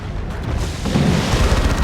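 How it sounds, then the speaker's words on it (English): Devastator Plasma Cannon impact in the video game Dawn of War 2, a loud, deep booming blast that swells and rumbles on for about two seconds with no talk over it. "Oh, hit flush though by the Devastator Plasma Cannon."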